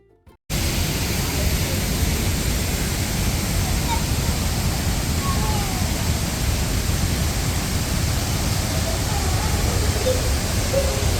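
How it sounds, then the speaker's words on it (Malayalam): Thirparappu waterfall in Tamil Nadu, water rushing in a steady, loud, continuous roar close by, with no talking over it. "അങ്ങനെ വെള്ളച്ചാട്ടം കാണുമ്പോൾ കുറച്ച് കൂടുതൽ ഏരിയയിലായിട്ടാണ് വെള്ളച്ചാട്ടം ഉള്ളത്"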